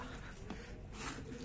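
A pigeon, a Madrasi female, comes down onto a rooftop to feed on grain, with soft cooing near the birds under steady low background hum.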